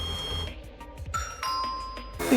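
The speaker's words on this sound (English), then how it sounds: "Ding dong." Doorbell chime in the video game Zero Escape: Zero Time Dilemma, with clear ringing tones and bright electronic dings that shift in pitch over a low game backdrop and end in a louder burst.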